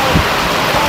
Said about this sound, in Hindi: यहाँ बहुत बारिश हो रहा है, आप सभी देख सकते हैं